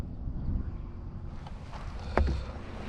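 Canoe or kayak paddling on the Mississippi River, with steady water movement and wind buffeting the microphone throughout and a brief splashy stroke near the end.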